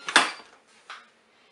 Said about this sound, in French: je peux fermer ma couvercle